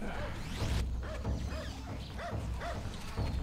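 Dogs in the video game Serious Sam 2 yelp and bark in a run of about five short rising-and-falling calls, layered over steady, busy game noise.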